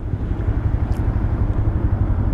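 A 2025 Honda Grom SP motorcycle rides along with a loud, steady low engine drone and rumbling throb, close up and continuous with no talking.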